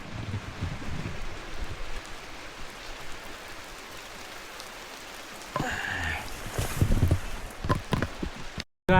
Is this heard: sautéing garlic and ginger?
no